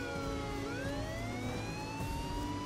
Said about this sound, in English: The police car is coming towards the derby.